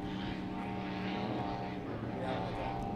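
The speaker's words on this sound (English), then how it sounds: "Running in front of us right now is Angel 1, the helicopter." Helicopter passing over rough seas at an offshore powerboat race in Atlantic City, a steady rotor and engine drone with wind noise filling the short stretch.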